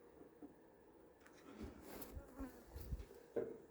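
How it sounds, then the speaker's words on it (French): Honeybees robbing a beehive swarm make a steady, busy buzzing hum, with individual bees droning close by and fading in and out against the background. "Eh bien, j'ai des attaques d'abeilles."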